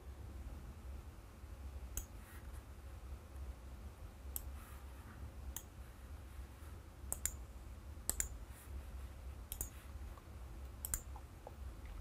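Computer mouse clicks during software use: about ten sharp, quiet clicks spaced irregularly over a soft, steady background, with no talking.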